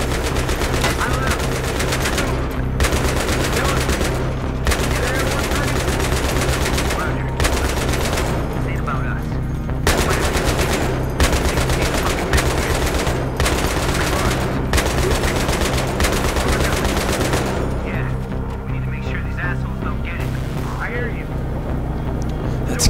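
Loud, sustained automatic gunfire with heavy booming bursts in the Battlefield 3 video game, broken by brief pauses, with voices speaking over the shooting.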